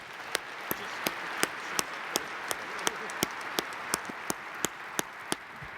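An audience applauding allies at a military gathering, with sharp, evenly spaced claps punching through a softer background wash of crowd clapping in a steady rhythmic beat.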